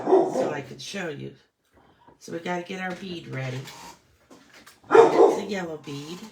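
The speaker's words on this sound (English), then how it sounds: "so he has to bark" A dog barks in short bursts in a home, near and fairly loud, over and between steady talk from a woman at a craft table.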